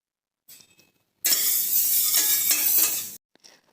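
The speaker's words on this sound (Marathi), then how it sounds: "डाळ थोडीशी पाच मिनिटभर तरी आपल्याला मंद गॅसवर भाजून घ्यायची आहे" Dal dry-roasting on a low gas flame, stirred in a pan for a couple of seconds: a dense, scraping rustle of grains against metal, preceded and followed by a few brief, soft scrapes.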